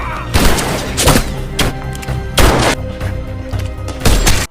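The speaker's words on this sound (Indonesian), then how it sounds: "Baku hantam dan saling menembak pun tak dapat dihindarkan lagi." Gunfire and fighting in an action film about a retired special forces soldier's revenge, with repeated loud, close bursts of shots and heavy booms over a dense, rumbling score.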